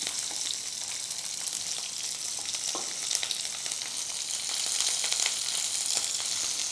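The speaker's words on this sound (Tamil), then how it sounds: "கருவேப்பிலையை போட்டுட்டு வெங்காயத்தை போட்ட வேண்டியது." Curry leaves and onion fry in a hot pan for a Tamil-style spicy moringa leaf stir-fry, making a steady, dense sizzle with faint stirring scrapes, close and continuous without speech.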